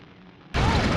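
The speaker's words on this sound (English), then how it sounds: "Ignite the fuse with your fire breath." An explosion in the video game The Legend of Spyro: A New Beginning, set off by fire breath lighting a fuse, bursts in suddenly and loudly after a quiet moment and holds as a dense blast.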